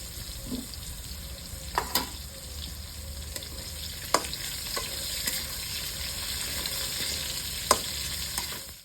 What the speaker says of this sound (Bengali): দিয়ে আমি মূলোটা বেগুনটা ভেজে নেবো প্রথমে একটু না ভাজলে কাঁচা গন্ধটা থেকে যাবে